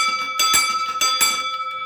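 A pole-mounted warning light and bell unit rings loud and close, its metallic tone sustained with two stronger strikes swelling out over a steady ringing wash.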